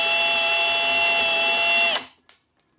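A power drill bores into wood, whining steadily at high speed for about two seconds, then cuts off and spins down, followed by a brief faint click.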